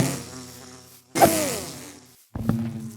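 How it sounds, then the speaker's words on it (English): Bees buzz around a regular bee nest in Minecraft with the Productive Bees mod, a close droning hum in several bursts with pitch bends, separated by short quiet gaps, no talking. "We finally got a regular bee nest."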